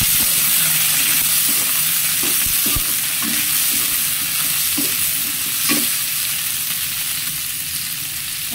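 Chopped tomatoes frying in a pan for eggplant bharta, a steady broadband sizzle with scattered stirring scrapes and occasional clinks, close and fairly loud throughout with no voices.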